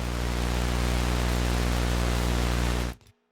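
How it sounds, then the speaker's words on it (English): Static from the Baby Audio Super VHS noise generator plugin: a dense, steady hiss with faint tonal hum underneath, loud and unchanging for about three seconds before cutting off abruptly into silence. "Down here in the lower left, we have static, which is a noise generator."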